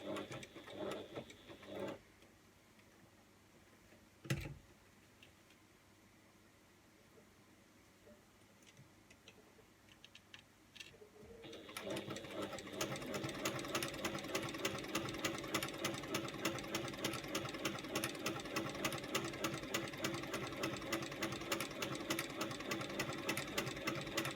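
A sewing machine stitches with black thread, starting after a few faint knocks and quiet handling, then running steadily and loudly with a fast, even mechanical rhythm for the rest of the clip.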